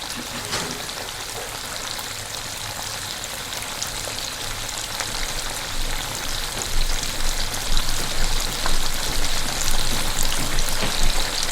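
Steady sizzling and bubbling of a shrimp butter stew cooking in a pan, a dense crackling hiss that swells slightly louder toward the end.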